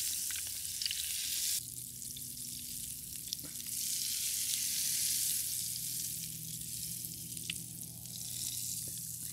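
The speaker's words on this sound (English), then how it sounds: "so I deep fry until you see they turn golden brown" Taro-stuffed tofu puffs deep frying in hot oil, a steady, loud, close sizzle and crackle that continues throughout with no voices.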